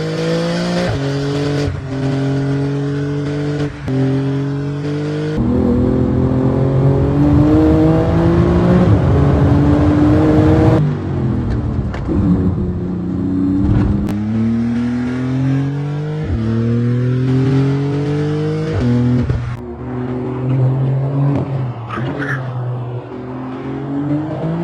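A 2010 Porsche 997 GT2 RS with a 3.6-liter twin-turbocharged flat-six, racing in Need for Speed, roars loudly through repeated rising rev sweeps and gear changes, with tire squeal and skids between pulls.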